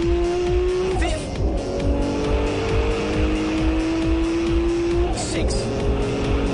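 A tuned Signal GTR accelerates hard through the gears on a high-speed run. The loud engine note climbs steadily, drops sharply at each of two clear upshifts, then climbs again, close and continuous, with talk layered over it.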